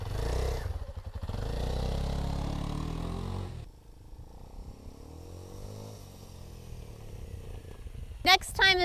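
A lowered Kawasaki KLX 230 with a Rekluse auto clutch accelerating moderately toward about 5,000 RPM: a loud, close engine roar at first, then quieter revving that rises in pitch, ending in a short sharp burst.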